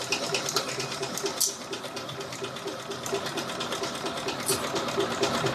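A sewing machine stitches a holding seam on a fabric bag, running in a continuous fast mechanical whir with rhythmic needle clatter and a couple of brief sharper clicks.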